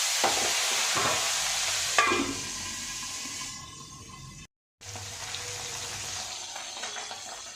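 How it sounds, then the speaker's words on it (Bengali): Pabda fish fry in hot oil in a pan, a close sizzling hiss broken by stirring and scraping sounds, with a brief dropout partway through and no speech. "এই যে এইভাবে আমি সব মাছগুলো ভেজে নেব"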